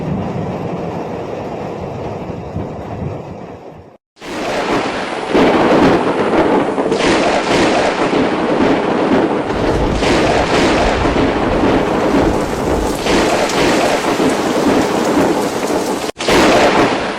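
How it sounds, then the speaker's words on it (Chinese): Loud thunder rolls through a violent thunderstorm over heavy, steady rain, with a deep, sustained rumble that cuts out briefly, then resumes at full strength close by. "有当地民众形容说，这雷声真的很像是龙在叫"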